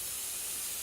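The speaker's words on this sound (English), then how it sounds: "we're going to spray this" A spray bottle mists glass separator in one continuous close hiss, steady and airy for its short length, with no talking.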